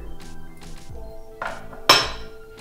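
Lip balm mixture with a few drops of mint being stirred in a small container, giving a few soft scraping strokes followed by one sharp, bright clink of the utensil against the container near the end.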